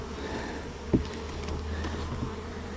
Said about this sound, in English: Just given the number of bees that are up in that top box